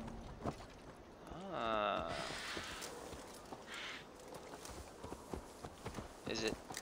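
Horse hooves clip-clop in Assassin's Creed Valhalla, a quiet, irregular patter of steps beneath someone talking and game sounds.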